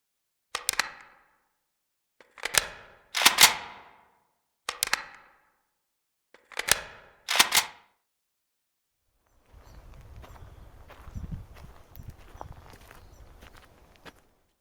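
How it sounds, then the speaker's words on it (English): Weapon reloads in the Road to Vostok game, heard indoors: a series of six sharp mechanical clacks and snaps in quick pairs, followed by a softer rustling, shuffling stretch. "let's give a listen to how the reloads would sound indoors"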